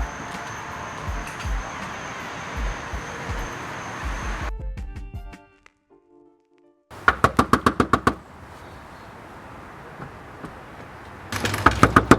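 Knocking on a house door: a quick run of about eight sharp, loud raps after a short silence, then a second burst of hard knocks at the end, with no voices over them.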